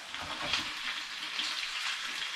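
Chicken satay pieces with the skin on fry steadily in hot oil, giving a continuous close crackling sizzle with no one talking.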